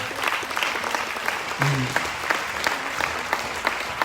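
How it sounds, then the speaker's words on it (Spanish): Audience applause fills a church, a steady wash of clapping from many hands that holds for about four seconds, with a faint voice beneath it. "Demos un aplauso, Señor."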